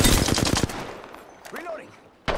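Apex Legends gunfire rattles out in a fast automatic burst of sharp, loud shots, then drops into a quieter stretch with small game effects, before a single loud shot lands at the end.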